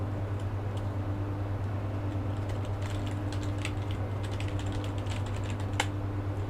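Rapid typing on a computer keyboard, a run of light, irregular key clicks over a steady electrical hum, quiet and close, with no speech.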